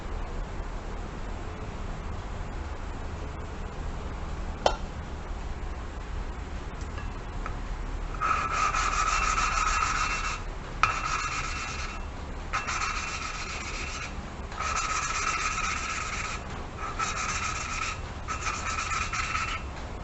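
An engine valve is lapped against its seat with coarse lapping compound, making quiet repeated gritty rubbing strokes in bursts of about a second, with occasional light ticks between them.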